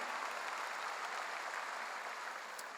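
A church congregation at a revival meeting applauds together, a dense and even wash of clapping held steady throughout, somewhat distant and moderately quiet.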